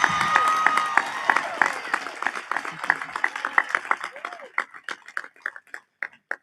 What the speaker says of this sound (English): Let's give that young lady another huge round of applause.